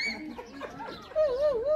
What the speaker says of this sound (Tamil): ஆடம் வந்து ரிப்ளை பண்ண பண்ண அதுவும் வந்து சவுண்ட் போட்டுட்டே இருக்கு